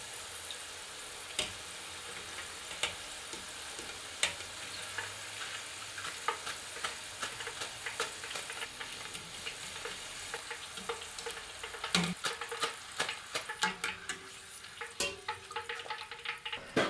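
Belgian potato fries frying in hot oil at around 180 degrees, a steady close sizzle with crackling pops and occasional stirring clinks throughout, growing busier toward the end.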